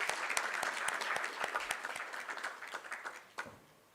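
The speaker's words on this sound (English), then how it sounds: "May we have a thunderous applause," An audience at a spectrum management conference breaks into applause, a dense patter of many hands clapping that thins out and fades near the end.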